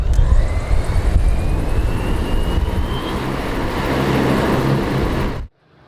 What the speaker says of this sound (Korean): 누리호가 발사됐던 전남 고흥 항공센터의 모습을 드러낸 미국 조비사의 S4 에어택시.